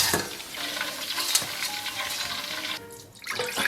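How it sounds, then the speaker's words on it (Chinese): Pork belly deep-frying in hot oil over high heat in a covered wok, giving a steady crackling sizzle that briefly dips and returns near the end. "为了防止溅油，咱们给它盖上盖，大火给它炸上5分钟"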